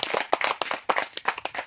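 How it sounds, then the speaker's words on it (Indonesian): Scattered applause from a small audience at an agricultural training session, irregular claps of uneven strength overlapping briefly, moderately faint with no talking. "Jadi boleh tepuk tangan, Bu."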